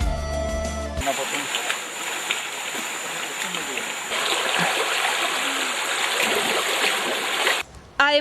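The San Marcos creek, clear water in a botanical garden setting, runs with a steady broadband rush and splashing, close and continuous, after a brief burst of other sound at the start and before a short break near the end.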